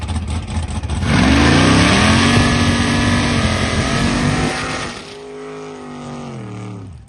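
A 1971 Plymouth Cuda, car number 48, launches at a charity airport drag race. Its engine roars loudly and rises through a gear change, then fades into a quieter, lower drone as it pulls away.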